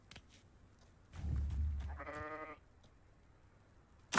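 A goat in the Hogwarts Legacy video game gives a single wavering bleat, preceded by a low thump and surrounded by quiet game ambience.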